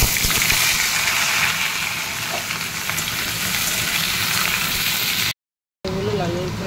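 Potatoes and vegetable stalks fry in hot oil in a pan for a curry, giving a loud, dense, continuous sizzle that cuts out briefly near the end before resuming.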